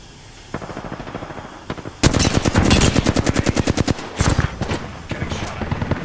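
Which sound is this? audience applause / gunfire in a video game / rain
gunfire in a video game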